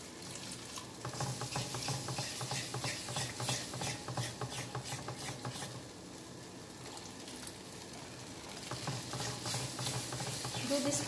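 Steady scraping and patter of a spoon stirring white sauce for pasta in a pan, a soft continuous rhythm with faint sizzling beneath, no talk.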